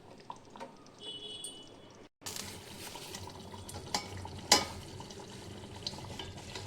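Steady low bubbling and simmering of tomato chutney in a covered pan, with a few clinks and stirring clicks, after a brief cut of silence.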